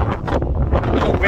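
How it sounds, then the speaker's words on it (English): Strong wind buffets the microphone during a motorbike camping trip in Scotland, a loud continuous rumbling roar that gusts and swells across the whole moment. "I might have to edit that bit out because that wind is ridiculous"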